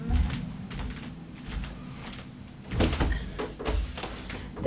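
A door in a residence is opened and shut with a few muffled knocks and a louder thud partway through, close by and with no talking.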